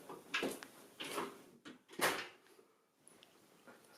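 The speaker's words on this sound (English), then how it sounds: "Shut the door." Indoor door being shut several times, a series of short knocking thuds and clatters spread across a few seconds, fairly quiet with gaps of near silence between.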